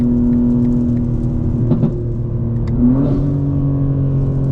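A nearby car engine hums steadily, then revs up briefly and settles back, with a few faint clicks and no voices.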